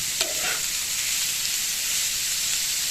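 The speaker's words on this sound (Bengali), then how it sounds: "দিয়ে নেড়ে চেড়ে আমি এটা ভেজে নেব" Cut pointed gourd (potol) frying with already-fried onions in a pan, a steady close hiss and sizzle with a brief clink of the stirring spoon near the start, no voices.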